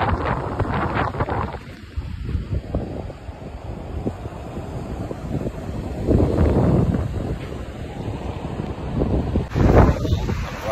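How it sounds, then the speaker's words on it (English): Strong wind at the beach, heavy gusts buffeting the microphone in uneven surges with a constant roaring rush beneath, loud and close, with no talking. "Way windier than I anticipated."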